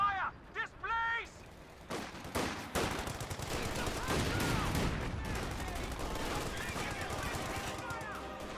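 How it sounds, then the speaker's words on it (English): Mortar and gunfire barrage in the World War II strategy game Company of Heroes 2, with a burst of sharp shots followed by sustained loud rumbling explosions and crackling fire, mixed with game voice callouts. "Mortars is engaging the Sheer Panzer quarters. Indirect fire!"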